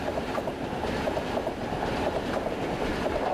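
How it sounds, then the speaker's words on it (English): A railroad train rolls past close by, a steady loud rumble with rhythmic clickety-clack of wagon wheels over rail joints running the whole time, no voices. "The sound of a railroad train"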